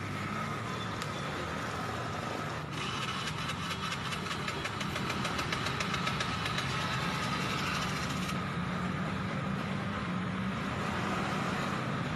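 A resident's motorcycle, helped into starting after running out of fuel, idles with a steady, continuous engine rumble and a faint knocking rhythm throughout.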